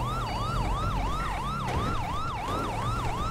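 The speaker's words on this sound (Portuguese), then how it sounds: "Retornando, vai ligar a sirene, tá?" A police car siren in the video game GTA 5 wails continuously in repeating rising and falling sweeps, loud and close over a low engine rumble, with no talking.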